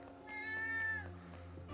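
A pet cat gives a single drawn-out meow with a clear rising-then-falling tone, close and fairly quiet, over a low steady hum.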